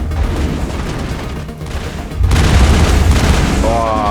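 Assault rifle fire in Mass Effect on the planet Ilos, a dense booming burst that swells loudly after a quieter stretch of ambient game sound, with a voice present.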